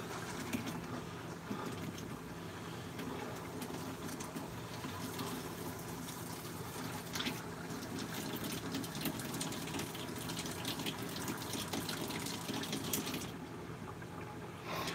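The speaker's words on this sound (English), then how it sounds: "while this tank is filling, this pump has a hard time priming" Water runs into a camper's fresh water tank during de-winterizing, a faint, steady rushing fill with an even hiss and no talk.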